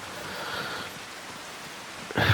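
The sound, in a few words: rain falling in farming video game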